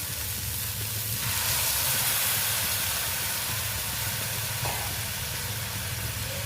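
Steady sizzling hiss from a hot pan of okra curry cooking with lentils and chilli powder after water is poured in, a continuous close frying sound with no talk.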